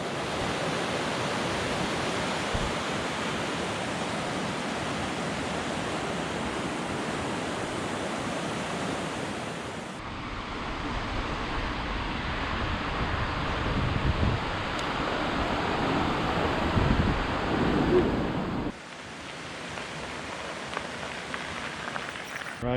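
Steady, dense rain and wind noise from a storm outdoors during a bikepacking trip in western Montana, continuous and loud throughout with a brief shift in texture partway, no talking.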